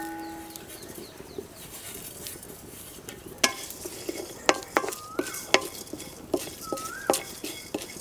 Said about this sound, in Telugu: ఇప్పుడు నూనె అనేది అసలు లేకుండా గరం మసాలా దినుసులన్నీ వేయించి పక్కన పెట్టుకుందాం